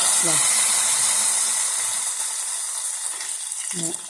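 Curry leaves fry in hot oil in a pan for an Onam-style ginger curry (injikkari), giving a steady, bright sizzle with occasional stirring scrapes while someone speaks over it.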